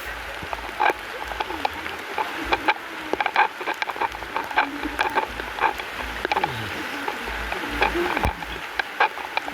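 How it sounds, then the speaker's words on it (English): Rain falls during a hike in St. Ann, Jamaica: a steady, close patter of drops with scattered sharper taps and drips, continuous throughout and without speech. "The rain is falling."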